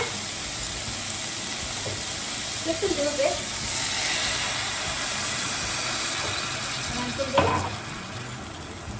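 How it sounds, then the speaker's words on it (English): Water splashes into a pan where tempeh is frying in oil, bringing a brief burst of sizzle and steam over a steady crackling fry. A person speaks briefly over the cooking. "I'm going to add a little bit more water"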